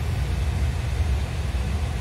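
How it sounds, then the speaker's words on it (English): A steady, low whooshing hum from a car's air conditioning fan blows continuously, with no other distinct sounds. "Pardon for the fan noise, but it's really hot here."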